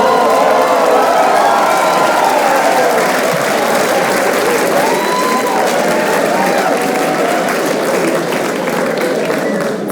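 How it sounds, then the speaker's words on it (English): Dense, sustained applause from a stand-up comedy audience fills the room, loud and steady throughout with a few cheers mixed in. "Frankly, I don't know why y'all clap at this."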